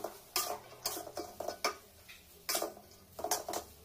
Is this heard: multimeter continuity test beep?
no